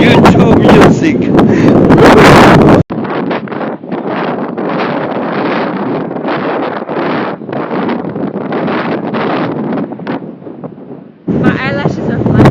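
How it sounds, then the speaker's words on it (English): Strong coastal wind blasts across a beach at Pismo or Morro Bay, buffeting the microphone with loud, roaring gusts. The roar drops out briefly twice, and voices may be mixed in with it. "It's way too windy."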